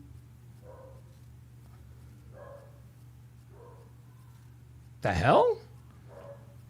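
Dog named Chester lets out one loud, close bark burst near the end, after a stretch of quiet indoor hum, with a person's voice speaking briefly alongside.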